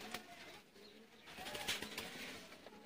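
Pigeons offered for sale, a breed called 35 walay, coo softly in the background, a faint, brief murmur with a hint of wing movement and no speech.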